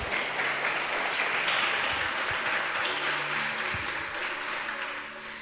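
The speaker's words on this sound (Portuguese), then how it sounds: "Você pode dar um aplauso para o Senhor?" A church congregation applauds steadily throughout, a broad, even wash of many hands clapping that fills the room and fades slightly at the end.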